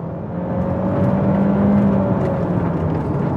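A 2022 Honda Accord Touring sedan with its 1.5-litre turbo engine accelerating hard from a launch with wheel spin, a steady, loud engine drone and tonal whine building and holding close by throughout, with no talking.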